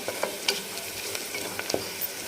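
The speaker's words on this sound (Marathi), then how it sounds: "एक दोन ते तीन मिनटाचा वेळ जातो तर कांदा छान सोनेरी कलरवर परतून झाला आहे आपला" Chopped onion frying in a pan until golden for a spiced eggplant dish, giving a steady soft sizzle with occasional light scrapes and stirs, close and fairly quiet, with no talking.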